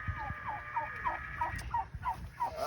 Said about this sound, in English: That's our rooster, so don't touch him.